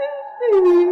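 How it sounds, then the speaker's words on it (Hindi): A brief, mournful wailing cry, rising then sliding down into a drawn-out moan, fairly clear and alone. "तभी दूर से रोने की आवाज आती है।"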